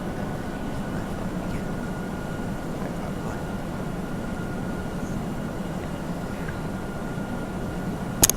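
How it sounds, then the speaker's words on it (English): An Airbus A320 in Flight Simulator X rolls down the runway for takeoff, giving a steady, even engine roar with a broad low rumble and a faint high whine, continuous throughout, with a brief click near the end. "Quite a smooth takeoff there"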